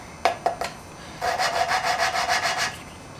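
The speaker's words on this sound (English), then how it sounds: "Then we got our valve lapping tool. Stick it on there and just start spinning it." A hand valve lapping tool spun back and forth on an engine valve seat of a 250 inline six with lapping compound, three quick gritty scrapes, then a pause, then a run of rhythmic grinding rubs, close and unaccompanied.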